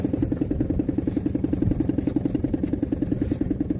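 An old moped with 20,000 km on it, with an engine that has lost some power, runs at a steady, rapid putter with fast regular pulses and a clattery mechanical edge as it is ridden rally-style.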